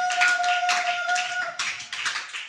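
A church congregation claps in rapid, dense applause to acclaim Jesus, close and continuous, with a sustained tone ringing underneath.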